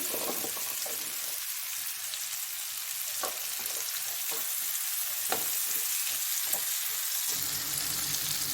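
Onions hiss and crackle steadily in melted butter in a stir-fry pan with garlic and mushrooms, a loud continuous sizzle broken by a few scrapes of stirring, with no talking.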